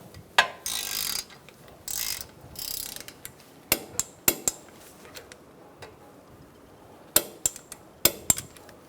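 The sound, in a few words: torque wrench tightening brake caliper bolts on Buick Encore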